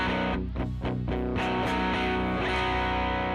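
Crunchy electric guitar played through an amp simulator, set just past the edge of breakup, ringing out sustained chords with a slightly driven bite, loud and alone.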